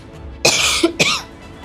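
Two loud, harsh coughs nearby with a brief gap between them, over a low background hiss.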